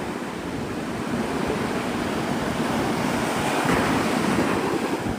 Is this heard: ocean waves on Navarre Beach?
yes